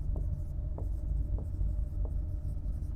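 Pen strokes on paper or a board as notes are written during a lesson on a bank scheme, faint periodic scratches about every half second over a steady low rumble, with no talk.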